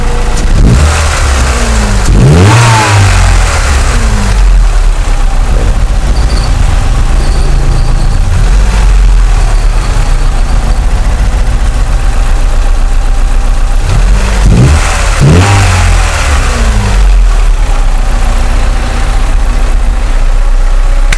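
Car engine idling and revving with two sharp throttle blips while its PCV valve is being cleaned, loud and close, the revs rising and settling back to idle between bursts.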